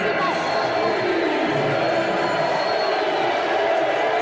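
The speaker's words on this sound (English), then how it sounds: "this crowd coming to life" Stadium crowd at a Lingerie Football League game between LA Temptation and Atlanta Steam, a steady broad roar of many voices rising on a fourth-and-one play, loud and continuous throughout with some indistinct voices mixed in.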